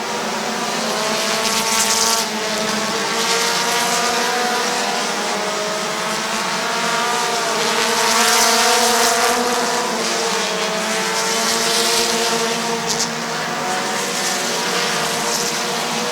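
Race cars roaring around Midvale Speedway, a loud, continuous layered engine drone from several cars that swells and fades slightly as they pass, with no voices.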